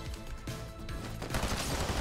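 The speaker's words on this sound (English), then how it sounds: "I've got my guy I'm shooting at, but there's a guy to my right that is shooting at me." Rapid bursts of gunfire in the Fortnite video game, several close sharp volleys crowding together over two seconds, dense and loud with no voice over them.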